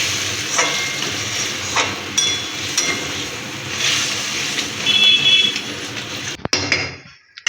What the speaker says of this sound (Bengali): দিয়ে ভালো করে জলটার সঙ্গে মিশিয়ে নিতে হবে।